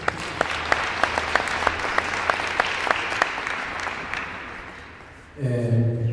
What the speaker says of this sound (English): Another round of applause for the Commission.